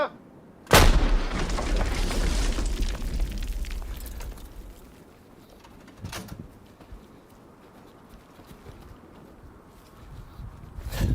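A single heavy 155 mm howitzer blast cracks out loud and close, followed by a long rumbling echo that fades slowly, with a fainter thump later.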